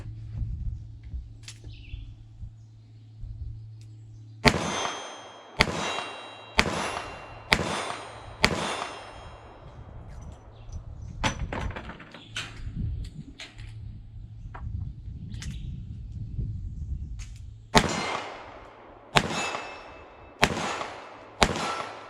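Sharp gunshots from a small Ruger SP101 revolver ring out in uneven bursts, each followed by a metallic clang from a steel target about 15 yards away, with a low steady hum underneath.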